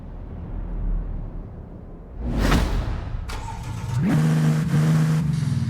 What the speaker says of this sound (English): So now when we press this button, it's going to switch on the car.